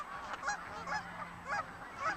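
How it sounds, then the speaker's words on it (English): Canada geese honking as they come in to land at Westchester Lagoon in Anchorage, Alaska, a series of nasal honks at moderate distance, fairly faint and repeated in an uneven rhythm. "Canada geese in for a perfect two-webbed landing. These honkers are heading into Westchester Lagoon in Anchorage,"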